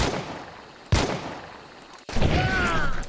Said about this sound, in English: frantically firing a pistol into the dark